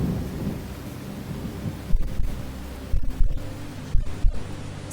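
A storm breaks with close, rumbling thunder and several sharp cracks over a steady roar of heavy rain, the bursts loud and irregular with no voices.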